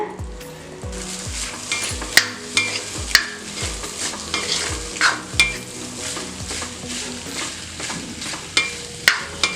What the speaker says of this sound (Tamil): இப்போ நல்லா கிளறியாச்சு